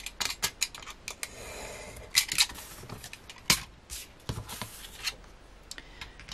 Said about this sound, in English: trying to cut a straight line with a pair of scissors